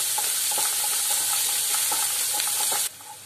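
Curry leaves dropped into onion and ginger-garlic paste frying for cauliflower fry give a steady, close sizzle with scattered crackling pops, stirred throughout, ending in a sudden drop to quieter hiss.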